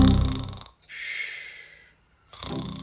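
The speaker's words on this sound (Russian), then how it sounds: "а еще что ты ночью храпишь" An elderly man fakes snoring, giving two loud, rough, close snorting breaths separated by a quieter airy exhale and a brief silence.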